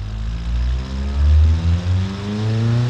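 Inline four engine with 2,500 cc and two valves per cylinder, revved hard in the Automation car-building game: a steady low droning note that rises and falls over a few seconds, loud and alone with no talk.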